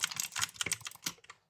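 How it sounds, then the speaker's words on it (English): Brisk typing on a friend's mechanical keyboard, a quick run of sharp clicky keystrokes close up with no talk, trailing off into silence. "I think my keyboard sounds good, but I think the spacebar definitely ruins it."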